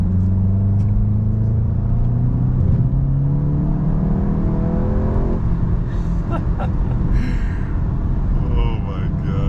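A 2022 VW Golf GTI accelerates on the road, its engine note climbing steadily as a continuous rising drone under the cabin rumble, with a person talking over it throughout.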